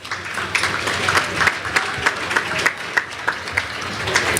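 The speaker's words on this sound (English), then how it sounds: "Let's give them all a round of applause." Audience applause at a Mercy College ceremony, a sustained, fairly loud crowd clap with a few distinct nearby claps standing out in a regular pattern throughout.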